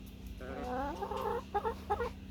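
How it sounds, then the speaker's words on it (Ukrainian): Several hens cluck in short bursts close by as they run up to a yard gate on a hot late-summer day, a low steady hum running underneath. "всі вже біжать кури"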